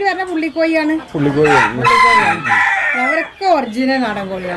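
A native country rooster crows loudly and close at hand in several long, wavering calls, with hens of the local breed clucking between them.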